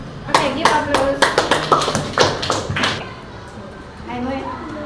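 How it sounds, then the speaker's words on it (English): Children clap together in a small group during an English lesson, a quick burst of sharp, close handclaps that thins out after a few seconds, with kids' voices chattering underneath and afterward. "Okay, give applause."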